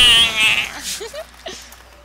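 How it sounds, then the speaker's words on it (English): A small goat creature in the Diablo 3 video game gives a few short, high bleats, close and fairly loud, with brief pauses between calls and no talk over them. "Aww, the little goat guy."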